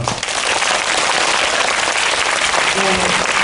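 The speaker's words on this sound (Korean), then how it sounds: "감독님들에게 박수 크게 부탁드립니다" A dense, steady round of applause from a cinema audience at a film talk event, loud and continuous, with a faint voice briefly audible underneath.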